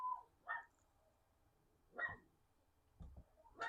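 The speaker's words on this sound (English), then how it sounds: "My dog is going crazy" A small yappy dog barks in short sharp bursts, a few separate yaps spaced apart at moderate distance, heard during a garage build of a 5.3L L59 engine.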